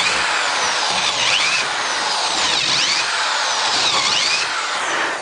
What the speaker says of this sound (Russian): Сначала сверлю